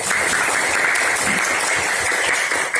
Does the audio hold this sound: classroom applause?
yes